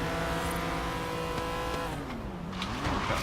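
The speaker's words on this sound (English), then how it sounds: "I believe that's a Lamborghini Diablo" Lamborghini Diablo engine in Forza Horizon 3, a sustained loud roar with harmonics rising then dipping and climbing again as the car slides sideways, with faint tire noise and no talk.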